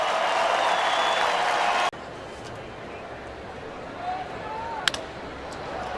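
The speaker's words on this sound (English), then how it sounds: "Tigers in the dugout all giving him a standing O, and here comes the crowd." Ballpark crowd rising for a standing ovation after a player's 2000th career hit, a loud roar of cheering and clapping that cuts abruptly to a quieter distant crowd hum with a commentator's voice faintly present.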